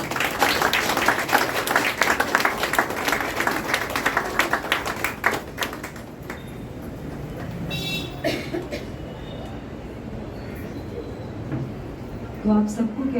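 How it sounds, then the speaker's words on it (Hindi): An audience at a drama lesson gives special applause for Baba and Mama: dense, sharp clapping for about six seconds that then stops, followed by quieter room sounds, a few stray taps and some talking. "और स्पेशल ताली बाबा और मामा के लिए।"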